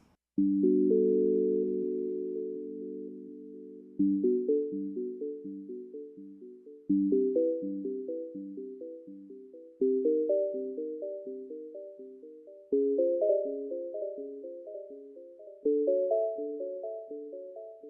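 Doppler FM synth playing sustained, layered tonal chords in repeating phrases, each struck note decaying slowly with echoing tap-delay repeats and a wide stereo reverb tail.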